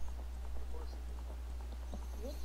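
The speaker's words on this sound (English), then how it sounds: "This horse riding right now is so amazing" Hooves clatter in a quick, even rhythm as a horse gallops in Zelda: Ocarina of Time, soft and steady over a low constant hum, with a brief whinny-like tone near the end.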